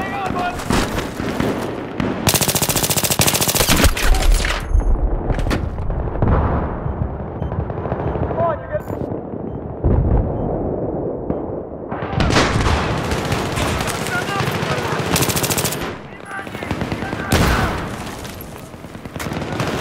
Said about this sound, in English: Spotted an enemy machine gun.